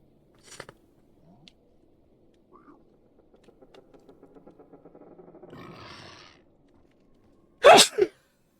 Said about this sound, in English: I'm not escaping the sneezes today.